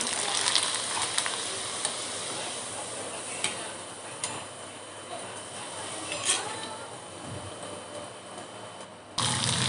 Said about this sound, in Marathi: पहिल्या मी कुरड्या तळून घेते